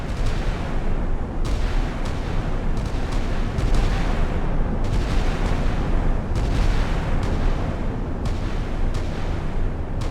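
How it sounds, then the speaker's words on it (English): A light cruiser's naval guns fire in the Sea Power naval combat game during a Norwegian–Soviet engagement, loud continuous booming with repeated sharp blasts every second or so over a dense rumbling roar. "it's going to have bigger problems soon as the light cruiser starts blasting away"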